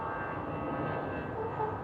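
An airliner takes off from the runway at Vienna International Airport, heard from the visitors' terrace as a steady, loud jet roar that stays even throughout.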